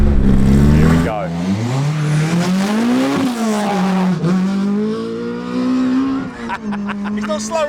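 Time attack race car hard on the throttle around a track, engine note climbing and falling through gear changes with a brief lift near the end, loud and close from onboard with wind noise mixed in.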